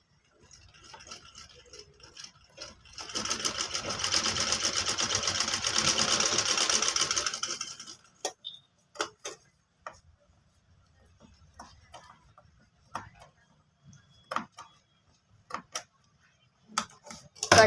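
Sewing machine stitching a kurti collar, a close, fast rapid-fire run of stitches lasting several seconds, followed by scattered clicks and fabric handling in near silence.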